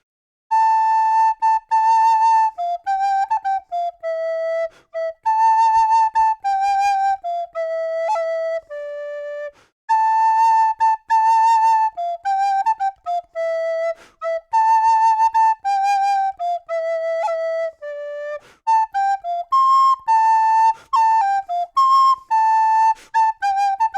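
A tin whistle plays a bright, lilting melody line alone, with quick ornamental cuts and short breaths between phrases, close and clear.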